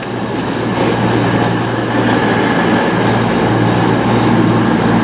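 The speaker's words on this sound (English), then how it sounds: "Also coming in now, it's 1343 arrival from Edinburgh" A passenger train arriving at Plymouth station rumbles loudly and steadily nearby, wheels grinding with a faint squeal over the continuous roar.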